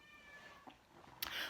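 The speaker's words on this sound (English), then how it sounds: "I'm so sorry if you can hear my cat in the background." A house cat meows faintly in the background of an indoor workshop, a couple of short calls rising over a quiet hum, with no talking.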